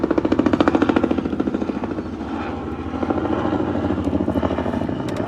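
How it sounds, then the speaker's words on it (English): An orange helicopter passes directly overhead, its rotor thumping loud and close in a fast, steady chop over a roaring engine, then easing slightly as it moves on. "here comes the orange helicopter right over me."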